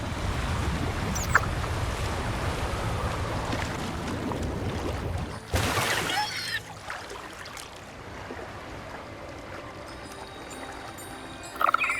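A boat in the video game Wuthering Waves travels upstream on a river, with a steady wash of water and wind-like rushing throughout and a brief louder splash partway through.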